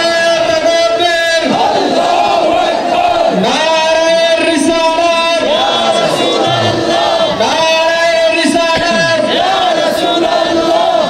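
A huge crowd at an open-air Islamic religious gathering chants slogans in unison, loud rhythmic roaring phrases rising and falling in repeated waves, with a leader's voice prompting between the massed responses.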